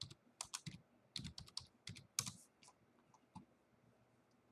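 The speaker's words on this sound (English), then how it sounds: "let me type it in real quick" Typing on a computer keyboard during a Bitcoin day-trading session: quick bursts of close, crisp key clicks in an uneven rhythm, trailing off into sparser taps.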